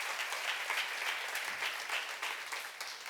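Audience in a church seminar claps together, a dense steady burst of applause, fairly faint and distant, lasting about three seconds.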